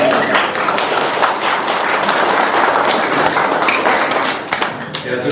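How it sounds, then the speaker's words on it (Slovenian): Dense, sustained applause from a church gathering at Sveti Duh in Vitna vas, Bizeljsko, many hands clapping close and loud for about five seconds before easing slightly at the end. "En aplavz še, en aplavz."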